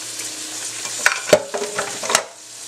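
Chuck roast with celery, onion and flour-coated mushrooms browning in a pan: a gentle sizzle broken by several sharp scrapes and knocks of a utensil stirring. No voices.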